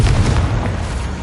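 A Confringo spell blast from Hogwarts Legacy on PS5: a short, loud, heavy boom with a deep rumbling body that stays dense for about a second before easing slightly, with no talking over it.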